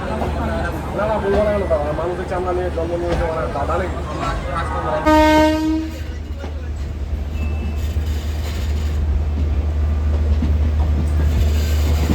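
The Howrah–Sahibganj Intercity train pulls out alongside the Howrah–Amritsar Mail, with a loud horn toot sounding once over a steady rumble of rolling rail cars and a voice talking in the first seconds.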